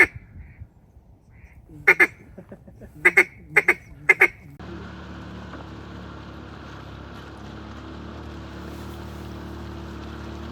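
A flock of about fifteen ducks quacks in sharp, loud bursts as the birds take off and fly away during a Texas duck hunt, followed by steady wind or engine rumble.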